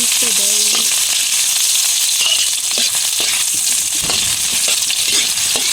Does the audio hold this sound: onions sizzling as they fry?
yes